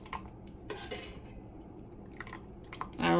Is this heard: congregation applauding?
no